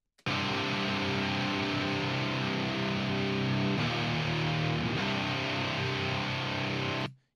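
Two distorted electric guitar parts play together, one panned left and one right, forming a thick, loud, continuous wall of sound that holds steady for several seconds and then stops abruptly.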